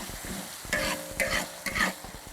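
Pixian doubanjiang and chili powder stir-fried in a wok, with steady sizzling and three distinct bursts of scraping spatula strokes against the metal, close and fairly loud.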